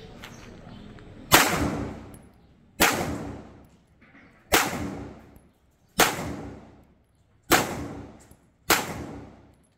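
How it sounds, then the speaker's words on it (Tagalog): A CZ Shadow 2 Blue pistol with a barrel bushing fires six loud, sharp shots at a steady, even pace on a range, each crack followed by a short ringing decay. "So that's 6 shots."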